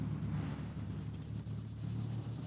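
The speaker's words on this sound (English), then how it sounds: "That car drove through here and it sounds like crap." A car passes near a fishing spot, giving a low, steady rumble that swells faintly and fades over a few seconds at moderate distance, with no talk.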